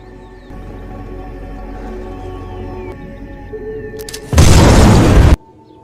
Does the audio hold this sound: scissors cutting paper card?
no